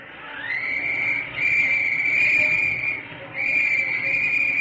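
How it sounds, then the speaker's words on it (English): A shrill penny whistle rises and holds a long steady pitch, breaks off briefly, then sounds again, loud and close, blown from a baseball dugout. "the boys in the dugout started blowing penny whistles at him"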